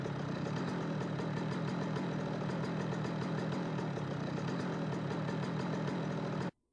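A Yamaha YZ125 dirt bike idles in the MX vs ATV Supercross Encore video game, a steady buzzy engine drone held at constant loudness that cuts off abruptly near the end, no talking.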